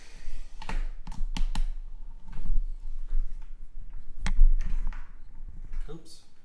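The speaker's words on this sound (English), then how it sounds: "Let's type it up." Keys clacking on a computer keyboard in a sports card break, a quick run of sharp clicks at close range, then sparse taps with a louder one near the middle, over faint room noise.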